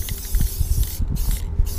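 Spray paint hisses in short bursts as black stripes go onto an old banger car, close and steady with a faint rattling under it.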